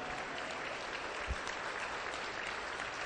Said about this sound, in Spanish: A ver, aplauda para Cristo.